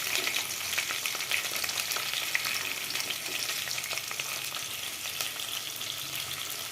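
Green chillies hiss and sizzle in hot oil already seasoned with mustard seeds and cumin for a curry, a steady, close, dense crackle that holds at an even level with no talking.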